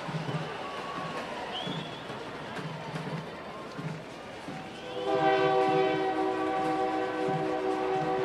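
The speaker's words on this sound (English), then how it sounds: "the E train, passing behind us as it has been all day long" Passing E train behind a Texas baseball stadium during a state semifinal game: distant rumble with crowd and field noise, then a loud, sustained multi-tone train horn blaring through the second half.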